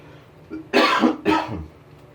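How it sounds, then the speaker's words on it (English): Two harsh, throaty coughs in quick succession, close up, with quiet room tone around them, from someone choking on coffee while drinking. "You get a cough out of it"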